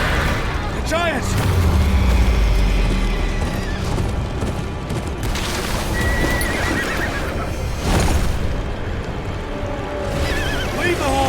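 Horses in the Game of Thrones Kingsroad video game whinny and neigh over clopping hooves, with shouting voices and battle booms mixed in throughout.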